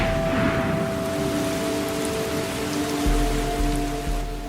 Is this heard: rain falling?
yes